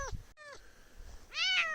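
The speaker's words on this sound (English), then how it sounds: "Oh, you're just a little kitten." A small kitten meows close by, a few separate high, rising-and-falling cries with short gaps between them, the last one louder than the rest.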